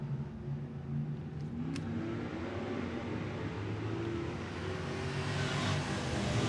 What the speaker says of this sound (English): Mark Sice smashes on the loud pedal. He'll take the lead going down to turn number 1